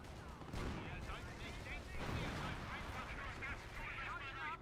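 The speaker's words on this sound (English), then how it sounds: "There's a lot of arty going down now." Artillery fire in Company of Heroes rumbles continuously, with repeated booming blasts and battle noise layered densely throughout.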